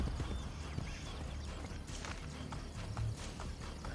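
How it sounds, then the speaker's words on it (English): Horse hooves gallop in Assassin's Creed: Brotherhood, a steady run of clip-clop hoofbeats on hard ground, fairly close and continuous, with low rumbling game ambience underneath and no speech. "Gallop a little to catch up."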